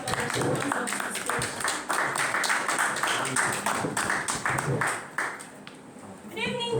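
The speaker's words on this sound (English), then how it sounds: "A round of applause for the ones of the" Audience applause at a Toastmasters meeting, a dense round of hand clapping from a modest crowd that thins out near the end, with a voice speaking briefly at the close.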